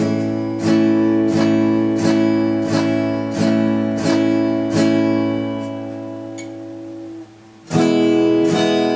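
A guitar strums the same chord repeatedly in a steady pulse with uneven beginner timing, fading and stalling briefly before the strumming suddenly resumes loudly.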